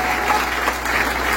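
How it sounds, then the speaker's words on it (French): A church congregation applauds during a Bible celebration service, a dense, steady wash of clapping that fills the whole short stretch, close and fairly loud, with no talk over it. "On va applaudir le Seigneur."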